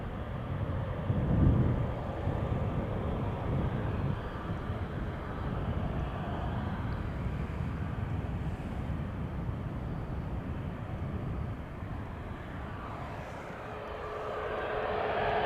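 An airplane taking off at Amsterdam Schiphol Airport, its loud sustained jet engine roar holding steady, then easing slightly and swelling again toward the end, with no speech over it.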